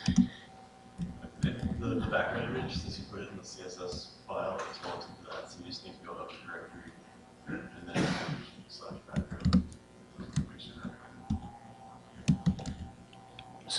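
Typing on a computer keyboard while building a web page layout, with scattered soft clicks and taps running under a man's ongoing speech throughout.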